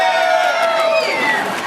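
A crowd at an Asian community event in New York cheers for Assembly Member Luis Sepulveda, a loud, steady swell of voices and whoops that holds throughout.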